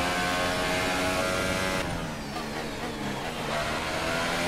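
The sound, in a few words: Formula 1 car engine with DRS open, from a video game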